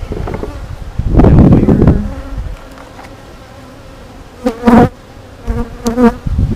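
Honey bees buzz in bursts close by around an absconding hive, a low droning hum that swells and fades, with sharper buzzes toward the end and no voices.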